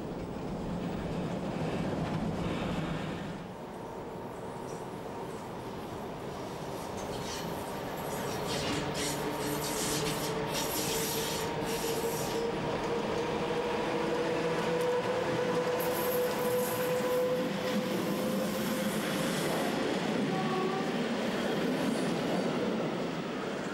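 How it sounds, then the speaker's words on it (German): A long car shuttle train to Böckstein rumbles steadily past with rolling wheel noise and faint squealing from the rails, loud and continuous throughout. "Der nächste Zug nach Böckstein ist unterwegs."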